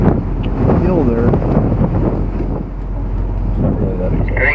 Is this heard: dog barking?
no